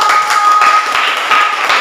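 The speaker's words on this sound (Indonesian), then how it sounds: "Tepuk tangan untuk" Students and teachers clap in a high school classroom after a project-based learning answer, a dense, steady patter of hands that holds at an even level for about two seconds with no voices over it.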